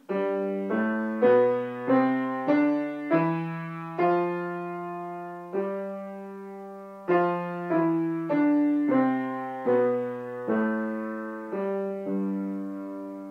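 Piano-like notes go up and then back down a Mixolydian mode scale one at a time in an even rhythm, each note decaying, with two chord-like pauses.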